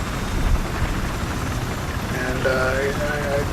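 Battlefield helicopter flying over Wake Island, a continuous rotor and engine drone at steady volume, with someone talking over it.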